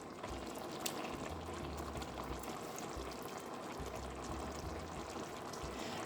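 Ragù spooned into a pot of half-cooked risotto, a dense bubbling simmer with a wet, pouring wash of liquid throughout and a low hum beneath, no talking.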